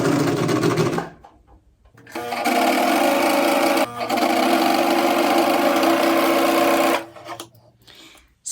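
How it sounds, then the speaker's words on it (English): An overlock sewing machine stitches a T-shirt seam in sustained loud whirring runs, a short burst, a pause, then a long steady run with one brief hitch, heard alone without talk. "then we're going to marrow or overlock this entire seam."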